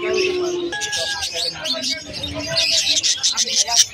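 Snow white zebra finches and other small caged birds chirp and tweet in quick overlapping bursts at a busy pet market in Malabon, with people talking nearby.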